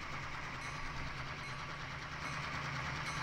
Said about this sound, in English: I love how the engine sounds really old. Like that's like a GP38 that's just been worked